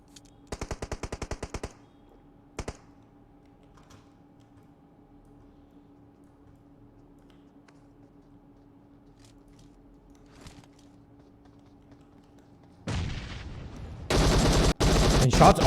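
Gunfire in the mobile game PUBG Mobile during a tournament match: a quick rattling automatic burst, then a single short burst, then near-silence before louder, denser fire erupts at the end.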